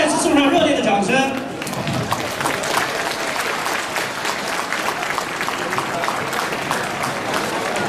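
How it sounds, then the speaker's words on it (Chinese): A crowd gives dense, continuous applause after a tai chi demonstration at a Chinese New Year event, and a voice is heard over the clapping at the start. "大家再次送上热烈的掌声"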